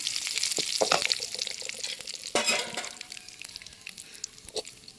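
Curry leaves frying in a pan of oil while cooking a ridge gourd chutney, with soft crackling and a few sharp sputtering bursts, fairly quiet and close, fading toward a gentle simmer.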